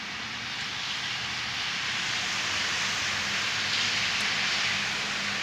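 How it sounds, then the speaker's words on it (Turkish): Hail falls in Bağcılar, Istanbul, making a steady, dense hiss of countless small impacts that holds evenly throughout, with no voices. "İstanbul Bağcılar'da dolu yağıyor ya da kar."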